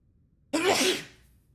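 One person gives a single sudden, sharp sneeze, close and loud, that bursts out of quiet and trails off over about half a second.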